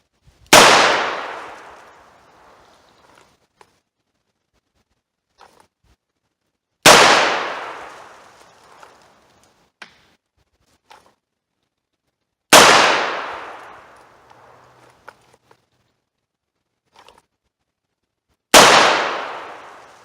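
Four loud revolver gunshots at target practice, each a sharp crack with a long decaying echo, spaced about six seconds apart, with faint clicks and handling noises between shots.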